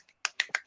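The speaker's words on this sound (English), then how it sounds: "Come on, give me some snaps." A handful of quick finger snaps from an audience, about five crisp clicks in an uneven rhythm, close and fairly quiet against a silent background.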